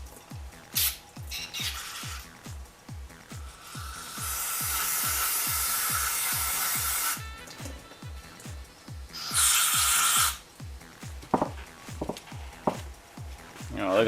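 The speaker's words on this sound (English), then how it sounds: "we need to go and spray some brake cleaner in all of the bleeder holes" Aerosol brake cleaner sprayed into the bleeder holes of a rear brake caliper from a Mazda RX-7 FC during a rebuild, two sustained loud hissing bursts, the first about three seconds long and a second shorter one, amid rhythmic workshop tapping.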